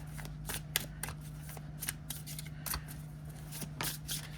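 Oracle cards being shuffled by hand, soft papery riffles and flicks in irregular bursts, close but quiet over a faint steady hum, with no talking.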